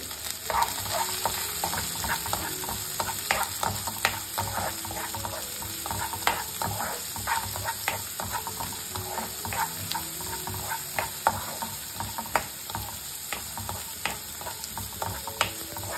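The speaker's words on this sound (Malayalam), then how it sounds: "നേരത്തെ കട്ട് ചെയ്ത് വെച്ചിരിക്കുന്ന ചെറിയ ഉള്ളിയും അതിനോടൊപ്പം തന്നെ കറിവേപ്പിലയും വെളുത്തുള്ളി ഇലയും കൂടി ചേർത്ത് കൊടുക്കാം എന്നിട്ട് നന്നായിട്ടൊന്ന് വഴറ്റിയെടുക്കണം" Shallots, curry leaves and garlic leaves sautéing in a pan for a drumstick and egg stir-fry, with a steady sizzle and frequent light scraping stirs of a spoon against the pan throughout, close and moderately loud.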